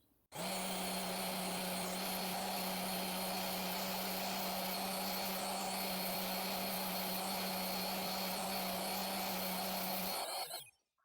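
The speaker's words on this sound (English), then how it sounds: "So I always sand down some, test it, and then have to sand some more." A power sander works the end of a 1/4-inch plywood bin divider for a Milwaukee Packout, running as one steady, loud whine for about ten seconds with a sustained hum underneath, then cutting off abruptly.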